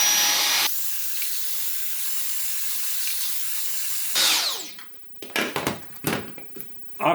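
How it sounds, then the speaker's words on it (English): A vacuum cleaner roars loudly for a moment, then drops to a quieter steady hum, followed by scattered clunks and handling noises. "vacuum and vacuum everything up."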